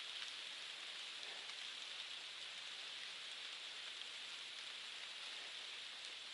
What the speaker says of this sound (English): it started raining about 50 yards from the shelter. It's not a heavy rain